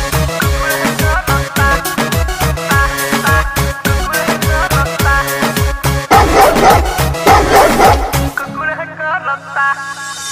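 A dog barks in rhythm within a Bhojpuri pop song, loud repeated yips and bow-wows riding a driving beat and synth backing before the music drops out near the end.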